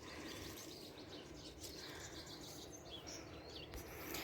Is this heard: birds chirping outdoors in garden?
yes